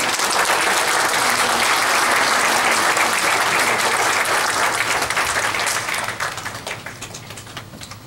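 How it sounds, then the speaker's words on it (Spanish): A congregation at a Sunday morning church service applauds in a full, even burst of clapping that holds strong, then thins out and fades over the last couple of seconds. "Un aplauso"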